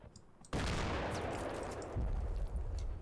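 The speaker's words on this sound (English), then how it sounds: "I know the mortars are coming in." Mortar rounds and air bursts in the Combat Mission wargame, Blood on the Snow, land as a sudden loud blast of explosive noise that keeps roaring for about three seconds, swelling again near the end, with no voices.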